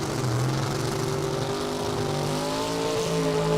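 Drag-racing Camaro with a 750 cubic inch Chevrolet engine, a loud, steady high-revving roar with rising harmonic tones, continuous and up close with no talking.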